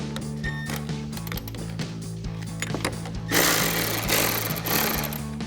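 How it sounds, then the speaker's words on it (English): Power tool loosening a 10mm nut on a body ground stud under the hood of a 2019-2024 RAM 2500, a close buzzing whir with clicks that turns into a louder, harsher burst near the end. "So we're going to loosen up our 10mm nut on our body ground."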